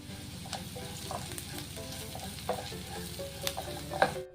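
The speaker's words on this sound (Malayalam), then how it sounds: "പടവലങ്ങ നമുക്ക് നല്ലോണം ഒന്ന് വഴറ്റി എടുക്കേണ്ടതാണ്" Snake gourd and onion sautéing in a pan for a Kerala-style theeyal, a spatula stirring with repeated scrapes and light clinks over a soft steady sizzle, close by and with no talking.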